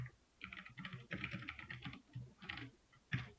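Someone types on a computer keyboard in a quiet room, producing a soft, steady patter of keystrokes with a slightly heavier tap near the end.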